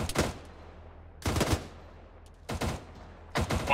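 Gunfire in the military shooter game Arma: four loud, sharp bursts of shots spaced about a second apart, each with a short decaying tail over a low background hum.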